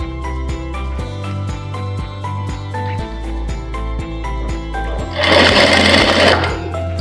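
A sewing machine stitches piping onto a blouse in steady, rapid mechanical bursts, loud and close, with a brief harsher whirring stretch near the end; no one speaks.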